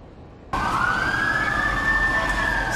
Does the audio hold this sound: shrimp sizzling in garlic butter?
no